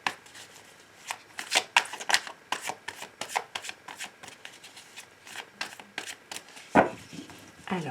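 Tarot cards are shuffled and cut by hand during a reading, giving close, crisp riffles and flicks in a brisk irregular rhythm, with a louder slap of the deck near the end.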